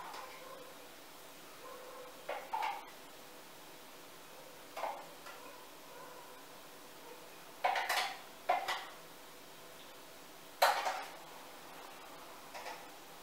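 Apple puree spooned into a bowl, with a handful of soft, sparse clinks of a spoon against the dish spaced several seconds apart, close and quiet with no talking.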